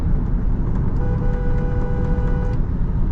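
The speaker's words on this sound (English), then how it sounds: "there is hardly any increment in road noise" Steady broadband road and tyre roar inside a Lexus RX350h hybrid cruising at highway speed, a dense continuous rumble with a faint tonal hum, no voices.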